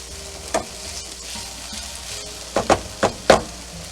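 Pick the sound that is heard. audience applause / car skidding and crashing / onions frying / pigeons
onions frying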